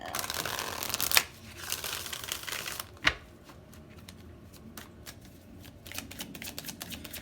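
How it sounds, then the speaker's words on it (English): Tarot cards being shuffled in a few quick riffling bursts, with a sharp snap partway through, then softer scattered card clicks, close and fairly quiet. "One more shuffle."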